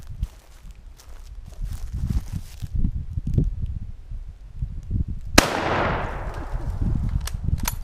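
An 8mm Mauser rifle fires a single 1949 FMJ round outdoors, one sharp loud crack midway with a decaying echo, set among soft shuffling and handling noises.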